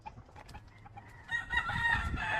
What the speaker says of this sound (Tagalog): Ang manok oh.